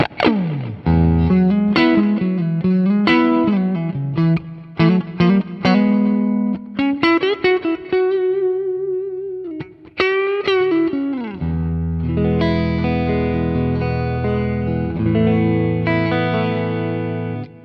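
Clean electric guitar playing alone through a PrinceVerb amp profile with a 12-inch speaker: plucked single notes and chords with a full, warm low end, ringing sustains and a brief pause before strummed chords resume.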